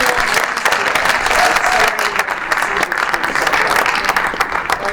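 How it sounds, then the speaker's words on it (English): Steady, loud crowd applause for the judges at an idea challenge awards event, a continuous wash of many hands clapping throughout. "Applause for our judges"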